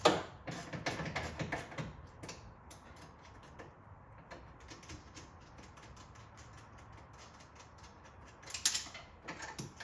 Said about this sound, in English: So I'm going to grab my socket.